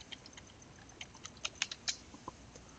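Someone types a password on a computer keyboard, a quick irregular run of light clicking keystrokes that grows busier midway, close and clear in a quiet room.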